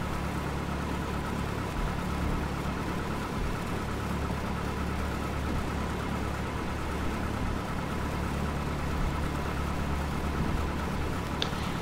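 Cessna 172 piston engine taxiing in Flight Simulator X, a steady droning hum at even loudness throughout with no talk or other sounds.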